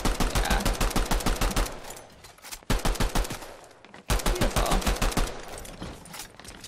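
Rapid automatic gunfire from a video game cash cup match, loud bursts of closely spaced shots with two short pauses, sounding near and continuous.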